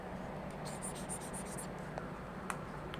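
A stylus scratches across a smooth, glass-like e-ink tablet screen in quick, light strokes, with a few crisp taps over a steady background hiss.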